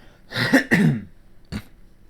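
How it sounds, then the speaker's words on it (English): A close, rough throat clearing in two quick harsh bursts, followed by a shorter third rasp after a brief pause, with no talking. "I have to clear my throat again"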